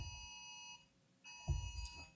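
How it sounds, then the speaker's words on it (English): A phone rings with a faint electronic tone made of two bright, pulsing bursts separated by a short silence, followed by a few soft low knocks. "It's my phone."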